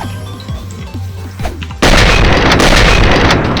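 Gunfire in an online shooter game where players fire together at one target, heard as a dense, loud, sustained burst of shots that starts abruptly and fills the second half, following a few quieter sharp sounds.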